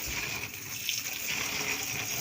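Water poured out for a homemade coconut milk hair treatment, a steady splashing, gushing flow close to the microphone with no talking over it.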